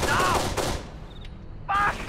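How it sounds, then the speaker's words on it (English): Rapid bursts of video game gunfire from Kane & Lynch 2: Dog Days rattle loudly, cut off by a moment of near silence, then another burst erupts with a sharp metallic ring. "there's still a lot of gunfire"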